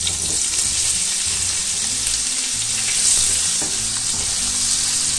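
Bacon and chopped calabresa sausage with its skin removed sizzle steadily in a pan while being stirred, a close, continuous crackling fry heard alone.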